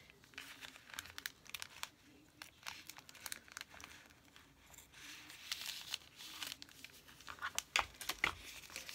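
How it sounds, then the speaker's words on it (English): A small mailed package is carefully opened and cut, giving close, faint crinkling and tearing of paper and plastic in irregular bursts throughout, with no speech. "Or maybe my best bet would be to just cut it open here."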